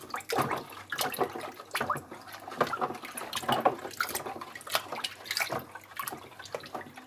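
A homemade fabric softener mixture is stirred in water, giving repeated close sloshing and swirling splashes in an irregular rhythm at moderate volume, with no talking.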